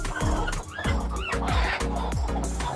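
Aseel hens cluck repeatedly at close range while settled on eggs for hatching, their throaty, rhythmic calls rising and falling in quick overlapping bursts, loud and continuous with no speech.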